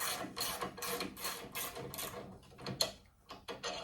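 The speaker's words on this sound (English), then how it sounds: "Now I'm going to put the factory size bolts in." A factory size Allen cap bolt with a lock washer is threaded into the spring plate of a 1972 VW Super Beetle, giving rapid rhythmic ratcheting clicks in short bursts, close and fairly quiet, with no talking.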